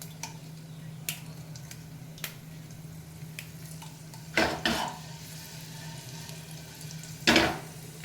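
Mustard seeds, urad dal, cumin and chillies hit hot oil in a pan, giving two short bursts of sizzling crackle over a low steady hum, with faint scattered pops between them.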